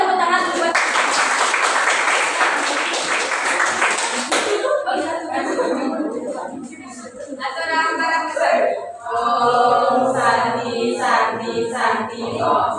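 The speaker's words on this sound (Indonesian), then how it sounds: "Oke, berikan tepuk tangan buat." Classroom applause for a student group erupts loudly for about four seconds, a dense burst of many hands clapping, then gives way to a teacher's voice talking over a quieter room.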